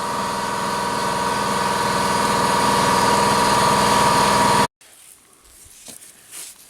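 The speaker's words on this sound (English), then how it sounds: "Cue the compressor." An air compressor running in a home garage workshop, a loud steady motor drone with a humming tone that cuts off abruptly near the end, leaving faint quiet handling noises.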